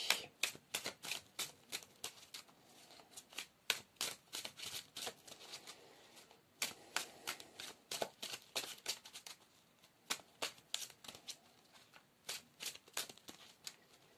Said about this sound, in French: ces deux cartes qui sont tombées pendant que je battais